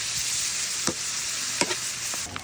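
Garlic and onion sautéing in a hot pan for Bicol Express, a steady close sizzle with a few scraping stirs and clinks breaking through it, no talking.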